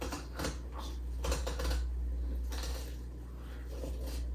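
A knife saws through fish rib bones, a rapid crackling, zipper-like scraping in short bursts, close up, with no talking.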